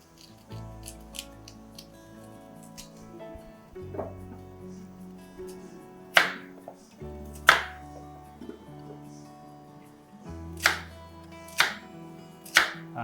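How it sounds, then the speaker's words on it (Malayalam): A knife slices through firm tapioca (cassava) in a series of sharp, crisp strokes at uneven intervals, with faint background music. "ചേച്ചി അത് കാണിച്ചത് കപ്പ അരിയുമാണ്"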